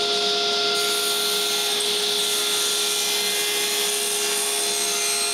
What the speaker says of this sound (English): So I cut a square piece of oak.